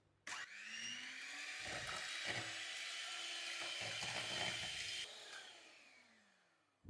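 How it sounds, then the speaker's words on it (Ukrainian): An electric mixer whips sour cream and powdered sugar at maximum speed, switching on abruptly into a loud, steady whine with bowl-scraping rattles, then spinning down and stopping. "І тепер міксером на максимальних оборотах просто збиваю до пишності."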